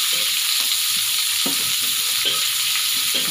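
Bay leaves and galangal sauté in hot oil in a pan, giving a steady bright sizzle throughout, broken by several soft stirring scrapes at an uneven rhythm.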